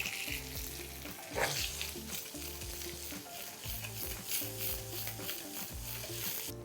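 Chana dal, urad dal, curry leaves and cashew nuts sizzle steadily in hot oil for a South Indian rava idli tempering, with a spoon scraping and stirring the pan in repeated strokes throughout.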